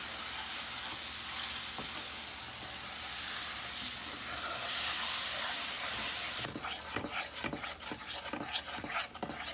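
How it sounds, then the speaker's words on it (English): Hot kada prasad mixture splutters and hisses as water goes into the pan: a loud, steady sizzle that then gives way to rhythmic scraping strokes from stirring, with the crackle still underneath. "Be very careful and gentle while adding the water because it might splutter."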